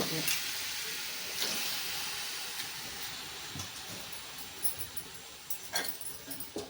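Chicken frying in a pan for coconut-milk biryani, a soft steady sizzle with scattered clinks and scraping stirs that grow more frequent toward the end.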